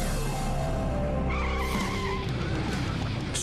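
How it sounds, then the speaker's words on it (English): A car swerves hard to dodge police spike strips during a chase, tires squealing and skidding loudly and continuously with the engine roaring underneath. "When police lay down spike strips, the driver swerves to avoid them."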